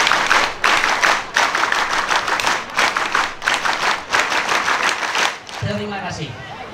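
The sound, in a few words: Scout clap (tepuk Pramuka) by crowd, done twice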